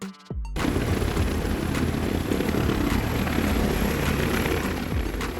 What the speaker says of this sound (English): Ambulance helicopter